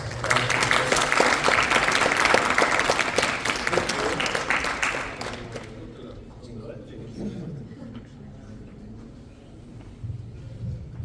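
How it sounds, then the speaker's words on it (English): Audience applause at a tech talent event in Warsaw, closing out a talk before a founders' panel: a loud, dense burst of clapping for about five seconds, then dying away into quieter room noise and a few voices. "Give big applause"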